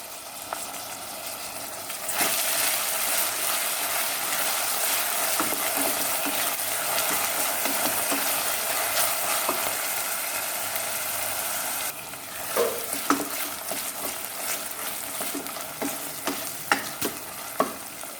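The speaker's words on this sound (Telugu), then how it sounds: "ఉల్లిపాయలు వేగుతున్నప్పుడు చూస్తున్నారా, 2 లవంగాలు, 2 యాలకులు, చిన్న చెక్క ముక్క వేసుకుని వేయించుకోండి." Onions fry in a pan with cloves, cardamom and a small piece of cinnamon, giving a steady close sizzle that surges after a quiet start, then eases into softer frying with spoon stirs and clatters near the end.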